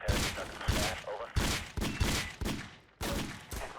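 Rapid bursts of gunfire in the mafia shooting game Random Mafia Shooter, a string of loud repeated volleys at steady intervals across the whole stretch, with no voice over them.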